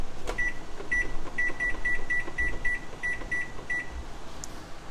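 A kitchen timer chirps through a quick run of about a dozen short, uneven electronic beeps as it is set for ten minutes, heard close against a low room hum.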